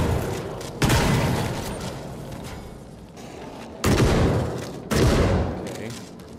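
Shotgun blasts in the video game The Forever Winter: three loud, separate booming shots a second or so apart, each trailing into a rumbling decay over a background of gunfire and noise.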